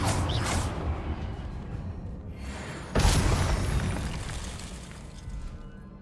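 Confringo spell blast in Hogwarts Legacy gameplay, a sharp boom bursting out mid-clip over a dense, rumbling game soundscape, loud and close, fading into a long noisy tail.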